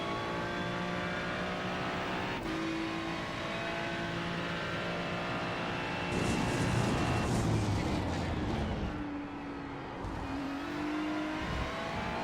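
A GT3 race car in the iRacing sim at the Red Bull Ring revs loud and steady, its engine note rising and falling through gear changes, with a rougher burst midway through the run.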